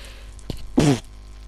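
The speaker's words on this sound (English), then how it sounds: "I'm sneezing" A single sharp sneeze from a person nearby, one quick voiced burst lasting a fraction of a second, preceded by a faint click and followed by quiet room tone.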